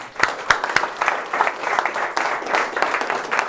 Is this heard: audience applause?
yes